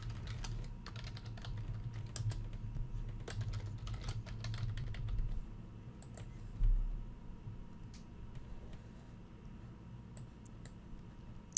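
Rapid clicking keystrokes on a computer keyboard as a password is entered while setting up an Ethereum wallet, close and steady in uneven bursts over a low background hum, with no talking.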